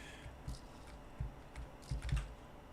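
Soft, close computer keyboard keystrokes come in a short irregular run, a handful of muted taps clustering near the end.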